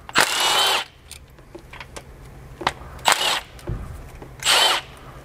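A power tool removes the gold-coloured shifter spring retention bolts on a Duramax transmission during a shift kit install: three loud whirring bursts of about half a second to a second each, with clicks and light metallic handling between them.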